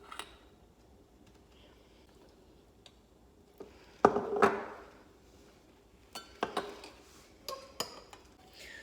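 A spoon stirring and clinking against a pot of homemade elderberry syrup with added honey, heard as a few scattered light taps and scrapes near the mic, with a brief louder clatter midway and quiet gaps between.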